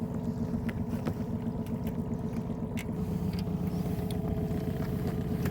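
Boat under way on water at a national wildlife refuge, a steady low engine drone with rhythmic churning and faint wind, continuous and moderately close.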